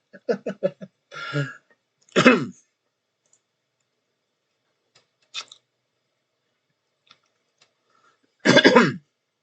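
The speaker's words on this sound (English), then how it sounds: "want to stop coughing" Several short coughs and throat clearings come in separate bursts with quiet gaps between them, close and alone.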